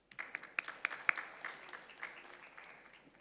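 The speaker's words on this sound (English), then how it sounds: "Let's give them a huge round of applause." Scattered audience applause for the panelists at a maritime conference session, a handful of sharp individual claps rising briefly then thinning out into a faint, sparse patter.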